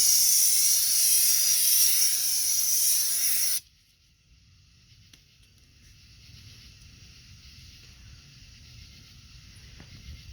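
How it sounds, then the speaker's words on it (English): Aerosol brake cleaner sprays in one steady, loud hiss for about three and a half seconds and then cuts off sharply, leaving a low, quiet background. "What I used to do was I used to take this, my brake cleaner, and clean it and rinse it off"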